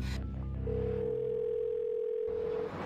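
A steady telephone tone sounds on a line while a call is being placed, one long unbroken electronic note held for about two seconds, clear and alone after a short burst of background noise.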